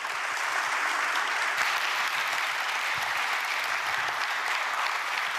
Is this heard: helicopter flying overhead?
no